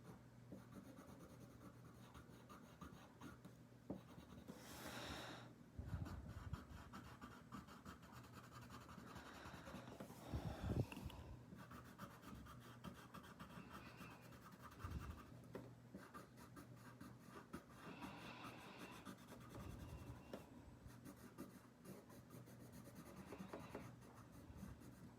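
A pencil or marker scratches steadily across paper while a Lorax drawing is coloured in, a soft continuous rubbing texture with occasional louder strokes and paper shifts, quiet and close with no talking.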